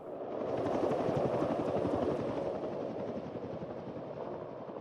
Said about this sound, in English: sounds like heli reinforcements